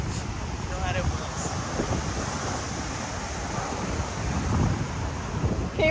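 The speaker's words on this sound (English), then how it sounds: "We at the beach" Wind buffets the microphone over a constant wash of surf at Myrtle Beach, a broad rushing roar that swells and eases without pause.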